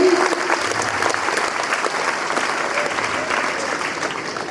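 Crowd at a martyr's statue unveiling ceremony applauds for the fallen soldier's mother, sustained dense clapping that starts loud and gradually tapers, with faint voices mixed in.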